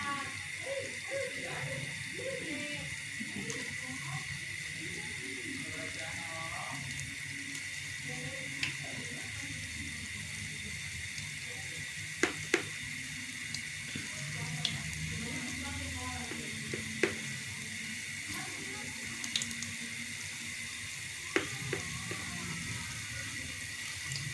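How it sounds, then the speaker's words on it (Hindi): Pakoras frying in ghee produce a continuous dense sizzle and bubbling across the whole stretch, with occasional small pops and crackles, while a person talks quietly over the cooking. "अब हम पकोड़े तलने लगे"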